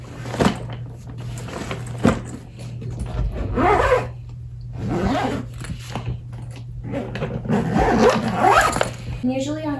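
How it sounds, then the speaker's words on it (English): A zipper is pulled along a packed travel bag, several raspy zipping strokes in close succession, loud and near, with a dog making noise in the room. "Just zip it up."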